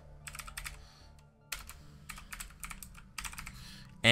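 Typing on a computer keyboard in quick bursts of clicky keystrokes with short pauses between them, close and fairly loud, ending in a sudden thump.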